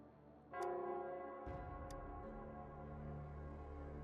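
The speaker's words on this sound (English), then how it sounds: "it's the Nell Squares bell." The Nell Square bell in the video game Wuthering Waves tolls with a deep, resonant strike and a long humming decay. A second heavier stroke follows, and the sustained ringing fills the rest of the clip.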